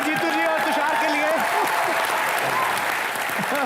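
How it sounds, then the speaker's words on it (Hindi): A studio audience at a Hindi comedy show bursts into loud, sustained applause and cheering, with a voice talking over the clapping throughout. "एक बार जोरदार तालियां जीतू जी और तुषार के लिए।"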